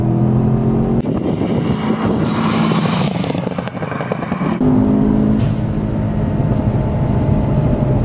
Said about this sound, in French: J'adore le turbo qui repart direct avec l'anti-lag.